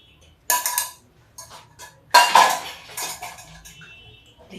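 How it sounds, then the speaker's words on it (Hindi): Freshly brewed tea is poured through a strainer into a cup in a village kitchen, with metal clinks of utensils against the pot in two close bursts and a light trickle, and no one speaking. "मैं छान लेती हूँ।"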